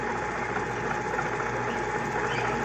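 A belt-driven machine with a suspected clutch problem runs steadily, its close, continuous mechanical drone and rattling hum holding with no clear change over the short stretch.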